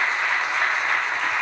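A short stretch of steady, fairly faint applause from a church congregation praising God, an even wash of clapping with no voices.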